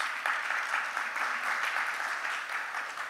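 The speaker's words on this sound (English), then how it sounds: "A big round of applause to our Canadian panelists." Steady applause from a conference audience for a panel on pandemic-era education in Canada, even and continuous clapping of moderate loudness lasting about three seconds, with no voices.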